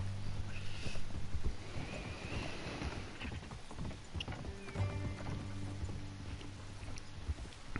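Horse hooves clip-clop at a steady walking rhythm in the Red Dead Redemption 2 game world, with an occasional whinny, moderately loud over low rumbling background and wind, with no talk.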